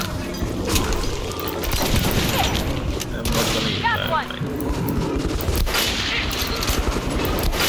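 Dense gunfire and crashing impacts in the Metro Last Light video game, loud rapid bursts overlapping with booms in a chaotic fight, with voices mixed into the din.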